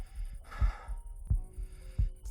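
A slow, soft heartbeat sound effect gives low thumps at an even, unhurried pace. A faint hum drones beneath it and no one speaks.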